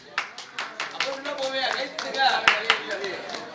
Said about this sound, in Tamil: இதுக்கு ஏற்றுக்கிட்டீங்கன்னா கைதட்டுங்க